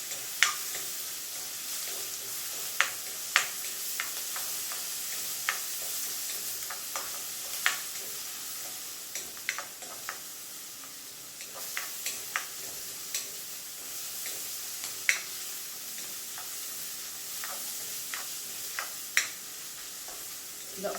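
Onions sautéing with ginger strips and two green chilies, a soft continuous sizzle with frequent clicks and taps of a spoon stirring the pan, close and moderately quiet.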